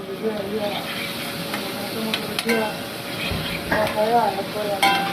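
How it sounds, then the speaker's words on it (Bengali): Anchovies and capers frying in a kadai for pasta puttanesca, a steady close sizzle broken by scraping stirs and occasional clinks of a utensil against the pan. "তো আশুগি এবং কাপ্পিরি একটু ফ্রিজে করে নিব। ফ্রিজে মানে ভাজা, একটু ভেজে নিব হালকা।"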